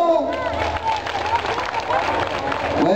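A rodeo crowd applauds over a bull-riding event, clapping and crowd hubbub mixed with a voice speaking over the noise.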